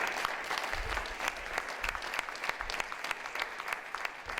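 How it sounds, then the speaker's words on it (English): Audience applause at a veterans' congressional event, a moderate, fairly quiet patter of clapping hands with a few sharp claps standing out, continuing steadily for several seconds. "So give him a round of applause"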